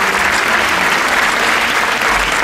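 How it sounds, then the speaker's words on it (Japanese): Dense, sustained applause from a large audience fills the hall at Akira Yoshino's Nobel lecture, loud and steady throughout with no voices on top. "会場はですね、もうこの日一番の大きな拍手に包まれていました。"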